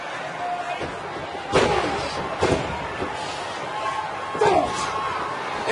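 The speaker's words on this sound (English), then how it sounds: "Check out this cage door being slammed into the head" Steel cage door slammed against a wrestler's head during a Hell in a Cell match, with sharp metallic crashes at intervals over ongoing commentary and crowd noise.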